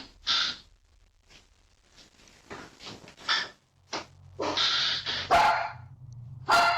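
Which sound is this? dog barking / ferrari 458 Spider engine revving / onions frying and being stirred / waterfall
dog barking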